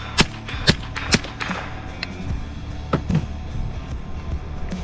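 A small rifle fired outdoors on a clear day, with about four sharp cracks spaced irregularly in the first few seconds and another around the three-second mark, each ringing out over a low, steady background.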